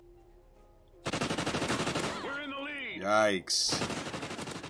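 An MTAR assault rifle fires in Call of Duty: Ghosts, loud rapid automatic bursts that start abruptly and run to the end with a short gap, and a brief spoken exclamation in the middle.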